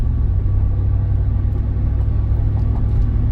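A 2000 Ford F-150 SVT Lightning pickup on a test drive gives a steady, loud, low engine and road rumble heard from inside the cab, even and unbroken throughout, with no talking.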